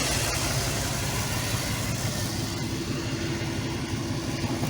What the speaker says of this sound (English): I had to put an engine in it. It's running smooth.